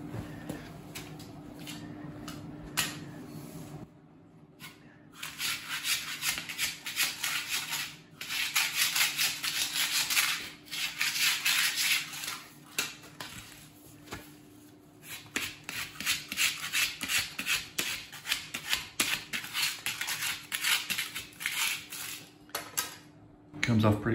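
A scraper fixed to a long curtain pole is pushed along a floor, lifting foam-backed lino in repeated rough rasping, scraping strokes with short pauses between them, fairly close, with no voices.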